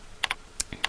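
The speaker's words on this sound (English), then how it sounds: "we're just going to go ahead and type something in" Someone types a password on a computer keyboard: a quick run of about seven crisp, close key clicks in an irregular rhythm, with nothing else heard.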